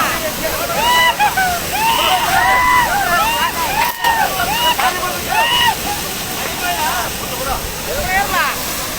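Water gushes loudly and continuously from the outlet on the first trial run of the Chilavara Bandi lift irrigation scheme, sloshing and splashing close by. Voices talk over the rushing flow.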